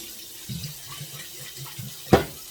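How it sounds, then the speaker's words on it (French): Rose petals rinsed under hot tap water for homemade rose water: a faint, soft trickle with small splashes, then one brief louder splash near the end. "Toujours avec de l'eau chaude, je vais les rincer"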